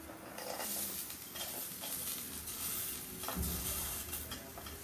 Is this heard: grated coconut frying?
yes